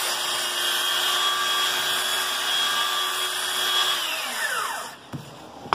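A random orbital sander fitted with 180-grit sandpaper whirs on wood with a steady high whine, then spins down with a falling pitch near the end before stopping.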